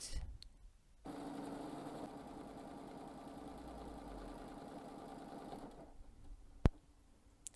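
A domestic sewing machine doing free-motion quilting, stitching a feather design on an improv quilt, runs in a steady fast hum of needle strokes for about five seconds before stopping, with a sharp click afterward.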